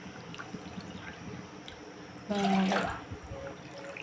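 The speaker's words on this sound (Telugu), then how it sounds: "దాంట్లోకి నాలుగు కప్పుల నీళ్ళు వేసుకుందాము" A brief splash of water poured from a cup into a bowl, lasting under a second, over a quiet background with faint room noise.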